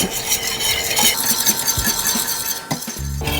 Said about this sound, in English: we're going to give this a stir to blend it up